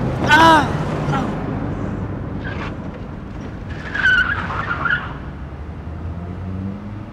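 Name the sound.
car skidding and hitting someone, accident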